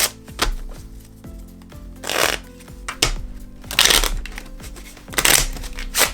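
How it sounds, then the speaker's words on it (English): Deck of playing cards shuffled by hand a few times at close range, three bright riffling bursts with quieter shuffling and handling between, no talking. "I'm gonna give these a couple shuffles"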